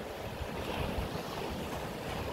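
Sea surf washing and splashing against shoreline rocks on the North Wales coast during rock fishing, a steady rushing wash with wind buffeting the microphone, no talking.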